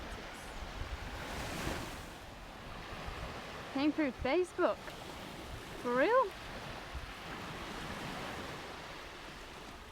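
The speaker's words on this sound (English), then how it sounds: "I'm glad you can hear the waves" Ocean surf rolls steadily onto a hot sandy beach as a continuous broad wash, with a person talking nearby over it in short bursts.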